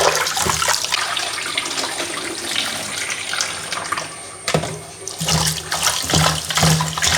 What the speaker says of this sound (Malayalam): ഒരു അഞ്ചാറ് പ്രാവശ്യമെങ്കിലും നല്ലപോലെ കഴുകി വൃത്തിയാക്കി എടുക്കട്ടെ